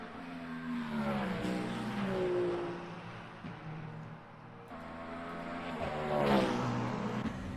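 Race car engines in Le Mans Ultimate, including a Toyota, rising and falling in pitch as they rev and shift, fairly faint and steady, with a second car sweeping past near the end.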